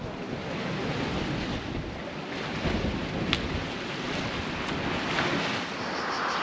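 Sea waves washing at the end of a street in southern Italy, near Brindisi and Otranto, heard as a steady broad roar of surf with wind buffeting the microphone throughout.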